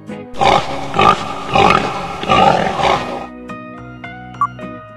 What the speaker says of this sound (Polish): Świnia.